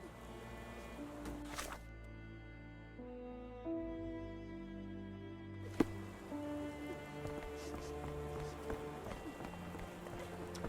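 Rain patters steadily in the Sherlock Holmes The Awakened game, a soft continuous hiss under sustained musical tones, with a couple of sharp thuds.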